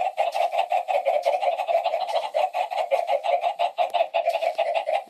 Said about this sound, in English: There's a lot of chickens.